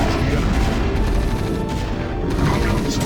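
Loud, dense barrage of cannon fire from massed Terran siege tanks in StarCraft, a continuous crackling and booming volley with no pauses.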